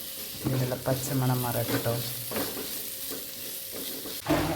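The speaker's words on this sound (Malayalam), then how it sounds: "കുറച്ച് മുളക് പൊടി ഇട്ട് കൊടുക്കാം ആവശ്യത്തിന്. എല്ലാം നന്നായിട്ട് വഴറ്റിയെടുക്കാം." A masala with chili flakes and chili powder sautéed in a pan for beef macaroni, a close, continuous sizzle with stirring scrapes, while someone speaks briefly over it.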